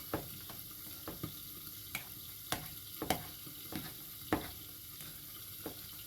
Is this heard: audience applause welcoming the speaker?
no